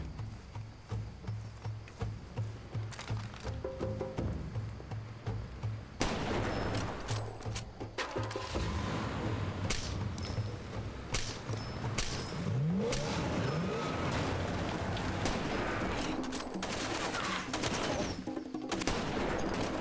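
Scattered gunshots in a Far Cry 2 firefight, repeated sharp cracks at uneven intervals over a steady rumble, growing denser and louder partway through, with an engine sound in the background.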